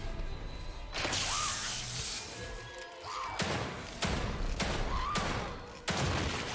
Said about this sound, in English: Fire trap.